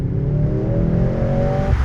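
A 2024 Mercedes-AMG C63 S E Performance accelerates hard in race mode, its engine note rising steadily in pitch, loud and close as if heard from inside the car, with no talk.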